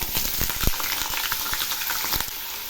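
Potatoes sizzle hard in hot mustard oil tempered with black cumin in a wok, a steady loud crackle broken by sharp clattering knocks as the pieces go in and get stirred.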